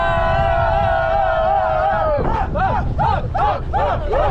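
Whitewater rafting crew on a high-altitude river shouting and whooping together in rhythmic bursts over steady rushing water, loud and close, following a sustained group yell.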